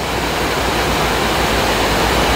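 Heavy rain pours down around a bus, a dense, loud, unbroken hiss and roar with no voices.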